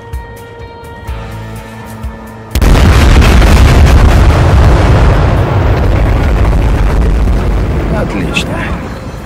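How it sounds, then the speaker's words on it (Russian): A massive factory explosion in Battlefield Hardline erupts suddenly after quiet tonal game sounds, a loud booming blast that rolls into a long, sustained roaring rumble with debris noise. "Фабрика взорвалась."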